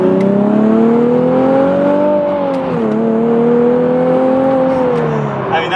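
A Nissan 370Z Nismo, returned to stock, accelerates under load with a steady, rising engine drone that dips briefly as a gear changes, then climbs again, loud and continuous from inside the cabin.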